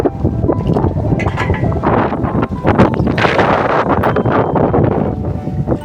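Wind blows steadily across an open farm field near a well, a continuous loud rushing and buffeting close to the microphone with no voices.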